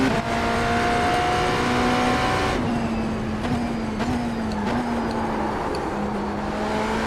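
GT3 race car engines in the iRacing simulator drone loudly and steadily, their pitch holding and shifting slightly as gears change, with several overlapping engine tones close by and no talk.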